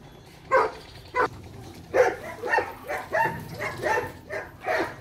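A dog barks about nine times in an uneven series of sharp, moderately close barks with short gaps between them, heard on its own without speech.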